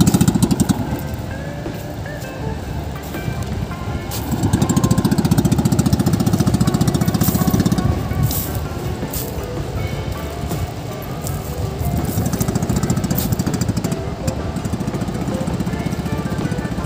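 An engine runs continuously at close range, a rough buzzing drone that swells and eases slightly in intensity throughout, with no speech.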